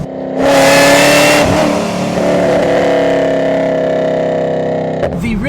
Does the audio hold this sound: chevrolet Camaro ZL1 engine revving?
yes